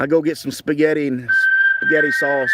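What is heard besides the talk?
phone overheating warning whistle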